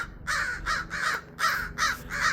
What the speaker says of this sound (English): I like to make friends with the crows